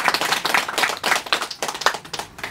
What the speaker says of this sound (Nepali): जोरदार ताली बजाइदिन हुन हार्दिक अनुरोध गर्दछु